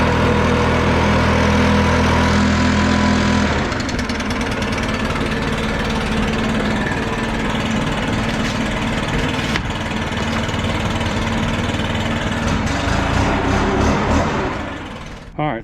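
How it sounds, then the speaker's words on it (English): A small gas leaf blower engine warms up and runs steadily, with a loud, close drone that drops slightly in pitch after a few seconds and holds until it tails off at the end. "Let me get a blower warmed up, and we'll blow this out."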